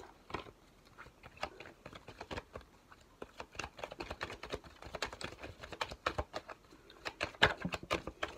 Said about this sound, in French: Donc je brasse.